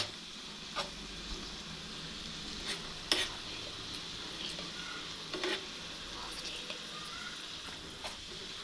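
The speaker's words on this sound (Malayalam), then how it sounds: "ശർക്കരയൊക്കെ ഒന്ന് ഉരുകി അതൊക്കെ ഒന്ന് കുറുകി വരണം. അതുവരെ നമുക്കൊന്ന് ഇളക്കി കൊടുക്കട്ടോ." Jaggery melts and thickens in a pan under a low, steady sizzle, with occasional sharp scrapes of stirring.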